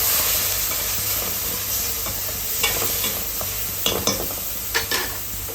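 Bread with turmeric and red chilli powder sautéing in a pan, a steady close sizzle broken by a few sharp scrapes and clicks of stirring.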